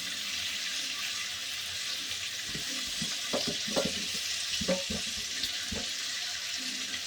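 Pieces of raw banana and pointed gourd fry in oil in a home kitchen pan, a constant close sizzle broken by several clinks and scrapes as they are stirred and turned.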